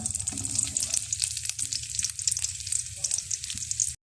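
Onions frying in a pan, a steady crackling sizzle with bright spitting oil that runs continuously, close and fairly loud, ending in a sudden cut.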